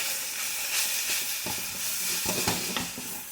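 Cabbage frying down in a pan hisses in a loud, continuous sizzle, broken by a few quick scraping stirs near the middle and end.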